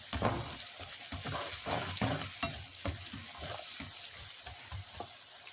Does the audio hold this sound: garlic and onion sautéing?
yes